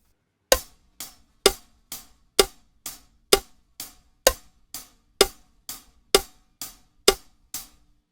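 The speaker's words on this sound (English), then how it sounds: "on the hi-hat, we're going to be playing 1/8 notes." Hi-hat played alone in a steady eighth-note pattern, sixteen crisp evenly spaced strokes over about eight seconds, close and clear with no talking.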